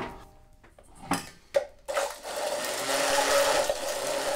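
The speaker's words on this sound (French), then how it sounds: "la mélanger donc avec un jus de citron vert et de l'huile de sésame, un peu de vinaigre de riz. Je vais mixer le tout." An electric blender whirs steadily as it purées lime juice, sesame oil and rice vinegar, starting after a few clinks and knocks and then running loud and continuous to the end.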